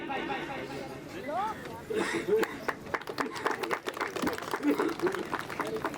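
Audience at a taluka-level Republic Day celebration in Ambliyara, Bhachau, breaking into applause, scattered claps swelling into steady clapping amid chatter and a talking voice over a loudspeaker.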